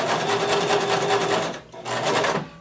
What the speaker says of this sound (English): And I'm sewing again, and then I'm back stitching